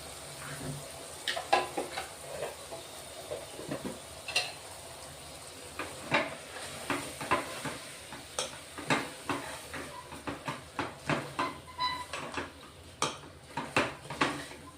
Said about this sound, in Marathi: तांदूळ आहे ना मसाल्यांमध्ये चांगला लागला पाहिजे म्हणून चांगलं परतून घ्या व्यवस्थित